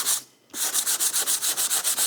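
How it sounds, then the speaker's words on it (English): Wood being sanded by hand in quick, even back-and-forth strokes to fit a guitar part, a dozen or so in a steady rhythm after a short pause. "I'm going to do just a little bit of sanding"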